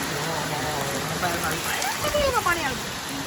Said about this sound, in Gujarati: જુઓ બતાવું વરસાદ તમને